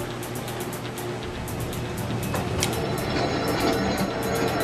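A New York subway train simulator ride toward Brooklyn gives a continuous rumbling rush of rail motion with faint repeated high ticking, steady and moderately loud, with no voices.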